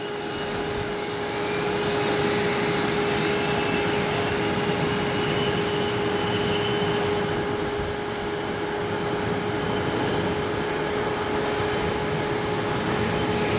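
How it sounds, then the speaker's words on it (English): A fixed-wing airplane rolls down a runway with a steady, continuous engine roar and a sustained whine, close and loud throughout with no talking. "So let's follow that plane down."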